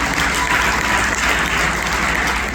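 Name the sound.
congregation applause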